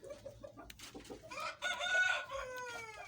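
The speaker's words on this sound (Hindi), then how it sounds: "ये बड़ा अग्रेसिव नेचर मुर्गा है।" An aggressive rooster clucks and croaks close by in a rapid, agitated sequence, ending in a drawn-out, wavering call, with no speech.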